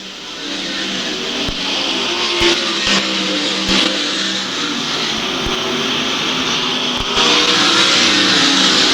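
World of Outlaws sprint race cars roaring around the dirt oval at Lakeside Speedway, a loud continuous engine drone from the pack with sharp ticks and pops running through it.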